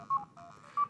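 Short electronic arcade-style beeps from a Pac-Man handheld game by My Arcade, two bright tone bursts separated by a brief lower tone.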